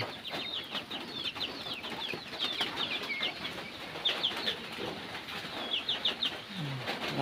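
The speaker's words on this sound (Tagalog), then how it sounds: "Ang mga manok ko." Chickens cluck and chatter in a mountain yard, a series of repeated clucks at close range over quiet outdoor ambience, with no talking.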